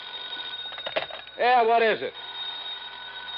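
An old-time 1950s radio drama telephone bell rings in one short, loud ringing burst, with a voice speaking just before it.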